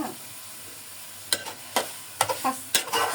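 Mixed vegetables such as radish, beans and cauliflower being sautéed in a pan, with sharp scraping stirs at intervals over a steady low sizzle, fairly close.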